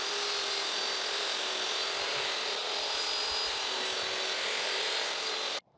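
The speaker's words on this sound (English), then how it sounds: "start ripping these down" A table saw rips a wooden board lengthwise, a loud continuous whining roar of blade through wood that holds steady for several seconds close up, then stops abruptly as the cut ends.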